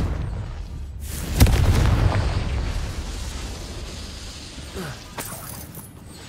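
A Confringo fire spell exploding in the video game Hogwarts Legacy, a sharp blast followed by a heavy rumbling boom, then a lower ambient wash with another crack near the end.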